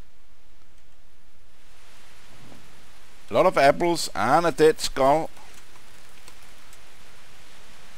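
Steady, soft rain hiss falls in the medieval game Kingdom Come: Deliverance, a constant wash of noise while someone talks briefly over it midway through.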